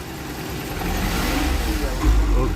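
A fuel-injected Suzuki Futura engine with a sluggish, unresponsive throttle and lacking power runs close by, a rough mid-pitched drone that swells into a brief rev near the end.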